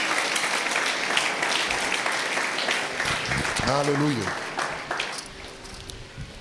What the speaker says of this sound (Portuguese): Será que pode fazer uma salva de palmas por essas pessoas que eu tenho dito?